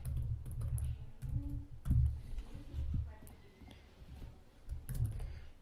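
Fingers type on a computer keyboard while replying in a live chat, a quiet run of soft key clicks in short bursts with pauses, close and fairly faint.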